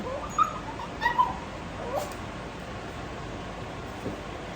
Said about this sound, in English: My dog will not let me cook in the kitchen.